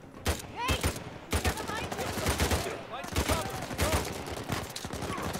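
Rapid gunfire in the video game Uncharted 4, repeated sharp bursts and volleys of shots over a dense battle mix, with game voices mixed in.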